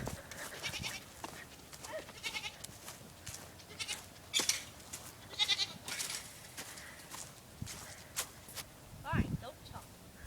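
A pet goat bleats several times at close range in a home setting, short wavering calls spread through the clip between quieter stretches.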